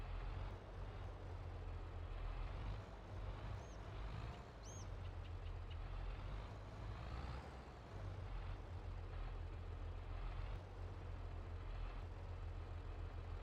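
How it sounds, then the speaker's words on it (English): In Farming Simulator 22, a forage harvester chopping grass and alfalfa drones with a steady low engine rumble, bouncing off the ground; a few brief squeaky chirps rise over the continuous mechanical hum. "We're hearing this chopper's like bouncing."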